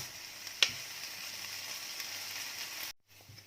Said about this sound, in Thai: คั่วเบคอนตัวนี้ก็เหลือง